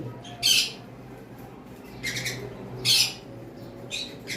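Pet birds give sharp, harsh squawks in short bursts, four or five calls spaced a second or so apart over a quiet background.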